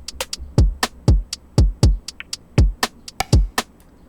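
Simple programmed drum kit beat from Groove Agent SE: deep kick thumps about every half second alternating with sharp snare and hi-hat hits, steady and close, with no talking.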